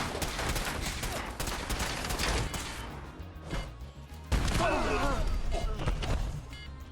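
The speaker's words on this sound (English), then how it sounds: "Keep firing." Gunfire in the video game Fallout 4, rapid bursts and sharp shots in quick succession with dense crackling impacts, fairly loud, a louder burst of firing near the end.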